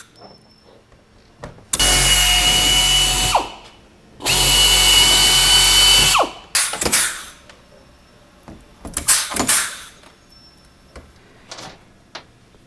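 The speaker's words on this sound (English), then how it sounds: "We'll now drill 13/64 holes." A power drill boring 13/64-inch holes for rivets while assembling a PolyJohn portable toilet unit: two sustained loud drilling bursts of about two seconds each, followed by scattered clunks and handling knocks.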